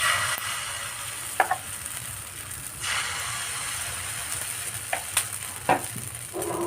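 Batter poured into a pan for homemade shawarma wraps hisses in a steady close sizzle, broken by a few sharp clinks and scrapes of handling, with no speech.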